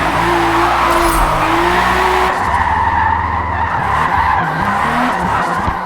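A 1998 Toyota Supra RZ with an all-wheel-drive drift tune slides through a track in Forza Horizon 5, tires squealing loudly and continuously while the engine revs rise and drop between shifts.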